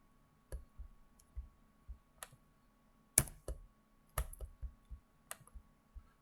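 Keys clacking on a computer keyboard while code is typed, in short irregular bursts of close, crisp clicks with brief pauses between, no talking.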